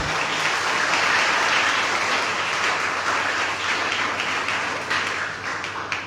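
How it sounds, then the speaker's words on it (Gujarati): An audience at a Gujarati youth talk event applauds a speaker, dense sustained clapping from a full room that stays loud throughout and eases slightly near the end. "આપણે એમને તાળીઓથી વધાવીએ."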